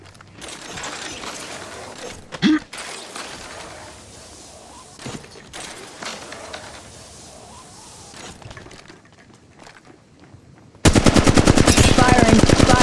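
Rapid automatic weapon fire from the Apex Legends video game, a sustained dense burst that starts suddenly near the end and stays loud, following quieter ambient game sounds with a few isolated sharp cracks.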